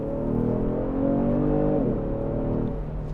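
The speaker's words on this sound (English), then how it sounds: "The acceleration is fairly smooth in here." A 2020 Genesis G70 sport sedan accelerates from inside the cabin, a steady engine drone that rises in pitch, dips briefly at a gear change, then climbs again over constant road rumble.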